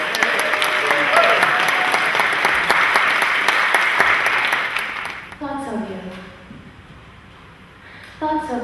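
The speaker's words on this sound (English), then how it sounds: "Give yourself a round of applause" A poetry night crowd in Leicester breaks into loud, full applause lasting about five seconds, then it dies away and a voice speaks over the quiet room.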